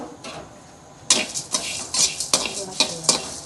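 Flattened rice (aval) roasted in a pan, stirred with a utensil that scrapes and clatters in quick uneven strokes over a soft dry sizzle, close and clear with no talk.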